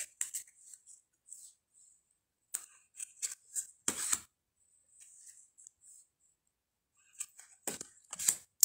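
Tarot deck cards being shuffled on thin cardstock: quiet crisp bursts of riffling and flicking in uneven clusters, separated by short silences, close up and soft.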